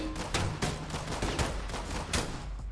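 Gunfire in the tactical shooter Ready or Not: a dense, steady stream of rapid shots, somewhat muffled and distant, with no clear voices over it.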